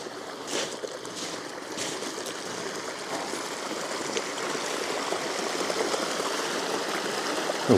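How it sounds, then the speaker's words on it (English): Clean water streaming out of the side of an old seaside structure on a pebble beach, a steady, close, continuous rush and trickle heard alone without voices. "We've got water coming out of this side."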